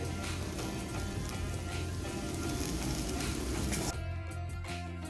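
Steady crackling sizzle of shallots frying in a pan, dense and continuous, with a change in tone near the end.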